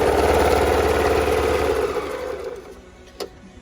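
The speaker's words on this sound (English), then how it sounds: "These are fast machines. They have a high-speed motor on it" A Singer sewing machine with a high-speed motor runs fast and loud, its rapid whirring stitches close by, then slowing and fading out near the end, capped by a short click.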